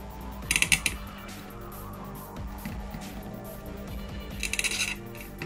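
Blue capacitor being pulled off a Game Gear circuit board, heard as faint clusters of small sharp metallic clicks and snaps, one burst near the start and another near the end, over quiet handling noise.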